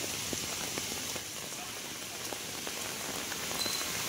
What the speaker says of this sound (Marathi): पाऊस एवढा खूप जोरात आहे ना, खूप जोरात आहे